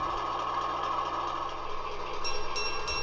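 An HO scale model locomotive, number 5, starts up and settles into a steady idle at a model engine house, with a constant low droning hum and no voices.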